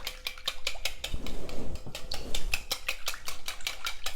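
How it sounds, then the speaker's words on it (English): A whisk beats egg yolks and buttermilk in a bowl with quick, rhythmic clinks against the side, and there is a soft wet swish in between. The strokes are close and steady, and no one talks. "Just mixing the egg yolk and the buttermilk."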